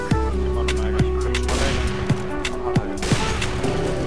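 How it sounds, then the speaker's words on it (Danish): Rapid gunfire crackles in a Counter-Strike style shooter, with repeated loud bursts of shots rattling over a steady electronic hum and in-game sounds. "Der er noget, der skyder i midten."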